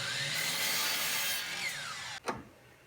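Miter saw cutting a wood board at a ten-degree angle: a steady motor whine that winds down, ending in a sharp knock as the cut finishes, close and alone.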